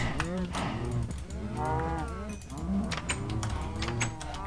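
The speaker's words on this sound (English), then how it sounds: "I'm gonna go kill some cows." Cows moo repeatedly in a survival video game, several drawn-out lowing calls following one another closely and loudly, with faint clicks and game noises scattered between them.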